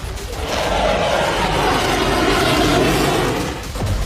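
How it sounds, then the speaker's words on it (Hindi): US fighter jets roar overhead in a loud, sustained, broadband rush of jet engine noise that swells and holds for several seconds, then dips slightly near the end. "मंगलवार सुबह 5:14 पर अमेरिका के फाइटर जेट्स ईरान पर अब तक के सबसे बड़े हमले की तैयारी कर रहे थे।"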